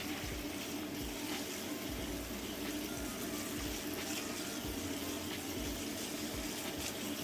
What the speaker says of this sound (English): This is when you put cold water on it to shock it to stop it from cooking.